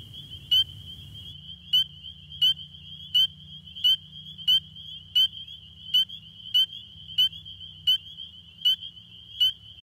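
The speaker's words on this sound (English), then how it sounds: "The peeping sound happens as air passes over the vocal cords and into the vocal sac." A steady high-pitched trill of spring peeper frogs with sharp, evenly spaced peeps about every half second, close by over a low background hum.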